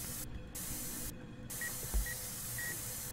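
Spray can paint hissing in a video game, several bursts of loud steady hiss broken by short pauses, with faint clicks between them.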